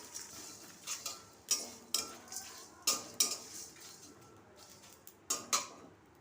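Whole spices such as coriander, cumin, fennel, nigella, cardamom, peppercorns and dried chillies dry roasting in an oil-free pan for mango pickle, heard as a series of sharp scraping and rattling stirs, quiet and close, with no speech.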